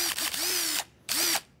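Power drill running in two bursts, a long whine of nearly a second and then a shorter one after a brief pause, loud and close with no talk over it.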